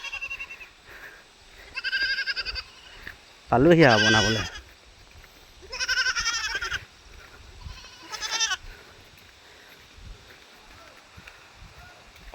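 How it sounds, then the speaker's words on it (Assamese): Goats bleat in several distinct bursts along a mountain road in Arunachal Pradesh, one loud and close and the others moderate, while someone speaks intermittently between and under the calls. "ইয়াত ছাগলীও আছে।"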